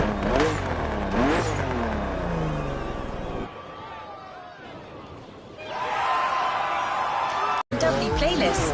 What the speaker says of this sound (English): BMW M2 CS,